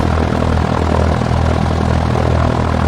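In X-Plane 11, a simulated propeller aircraft engine throttles up to about 1,400 RPM, a loud, sustained low drone with a rumbling buzz that holds steady throughout, with no talking.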